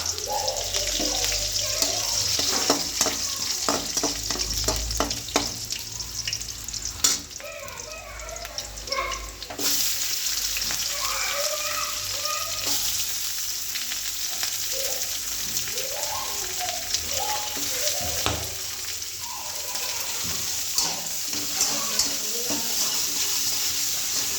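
Onions and plenty of garlic frying together in hot oil for an eggplant bharit, a continuous sizzle with stirring scrapes and bursts of splashing, fairly close, with short stretches of speech.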